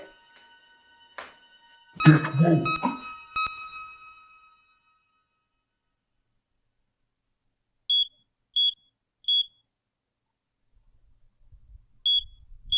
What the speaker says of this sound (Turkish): Karbon monoksit alarmı mı?